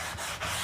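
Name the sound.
sanding body filler on a car panel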